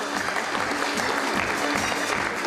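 Audience applause at a 2012 graduation ceremony of a private Turkish high school in Quba, steady dense clapping from a crowd, loud and continuous throughout.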